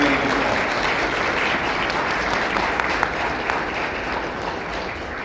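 An audience at a county candidate forum gives a round of applause for general candidates, loud, dense, sustained clapping filling the whole stretch at an even level.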